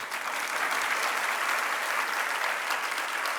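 A crowd gathered for a Jain acharya's religious discourse in India breaks into applause. Dense, steady clapping fills the whole stretch at an even level with no voices over it.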